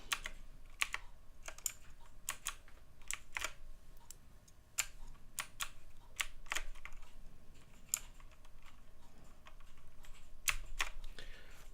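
Fingers tap steadily on a computer keyboard in quick irregular bursts of clicks, close and fairly quiet over a faint background hum, with no voices.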